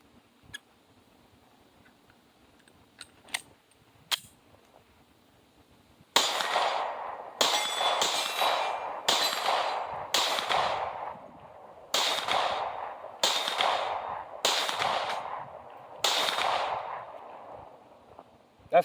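Glock 43X micro pistol fired at a steel plate rack from 25 yards: after a few faint scattered taps, nine loud sharp shots ring out at a steady pace over about twelve seconds, each followed by a short metallic decay.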